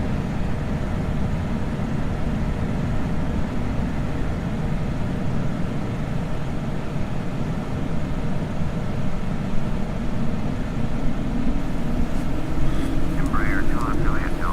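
An ERJ-145 jet takes off in Flight Simulator X, a continuous loud engine roar with low rumble throughout, rising slightly toward the end where a brief warbling tone appears; a voice talks over it.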